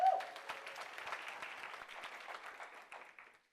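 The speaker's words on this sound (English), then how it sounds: "Can we round of applause for that?" An audience at a women's achievement awards event gives a round of applause, dense clapping that starts loud and gradually thins and fades over a few seconds.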